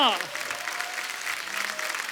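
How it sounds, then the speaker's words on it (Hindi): Steady applause from a television comedy show studio audience fills the clip, dense and sustained, with a voice calling out briefly at the very start. "जोरदार तालियां"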